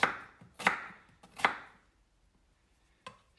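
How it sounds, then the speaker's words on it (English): A knife chops vegetables on a cutting board for beef stew, three crisp close thuds spaced roughly evenly, then a pause and one last lighter chop. "And we're down to this one, so cut it up."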